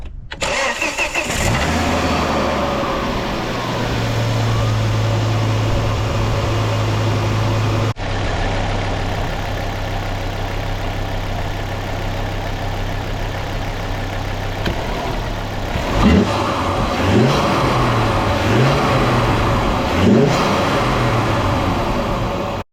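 A Ford Focus ST Mk2 fitted with a RamAir induction kit starts up and settles into a steady idle, a continuous low engine drone with a few revs and rustling toward the end.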